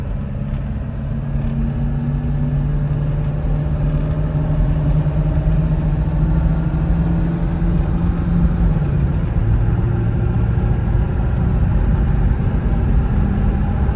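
A 2000 Ford Excursion XLT 7.3L Powerstroke diesel 4WD cruises on an open road, its steady engine drone and road rumble continuous and loud throughout, with a slight pitch shift partway through as it shifts gears.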